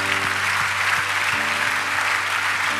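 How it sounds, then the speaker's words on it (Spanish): A church congregation applauds steadily throughout, a thick, even wash of clapping from many hands that fills the space, with a low sustained tone underneath. "Denle un aplauso al Señor, aleluya"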